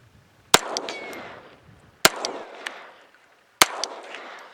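Three sharp, loud gunshots from a Smith & Wesson .22 target pistol fired one-handed, evenly spaced about a second and a half apart, each with a short ringing decay.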